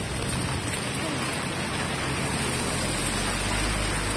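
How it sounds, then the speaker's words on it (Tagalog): Steady rain falling in Dubai, a dense even hiss of drops on surfaces, close and continuous, with no voices. "Ganyan pag umuulan sa Dubai."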